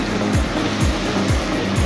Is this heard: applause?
no